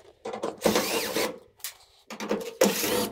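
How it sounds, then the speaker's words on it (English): A power drill backing screws out of the rear panel of a clothes dryer, two short whirring bursts with a brief pause between, close and fairly loud. "So I'm going to use a drill here."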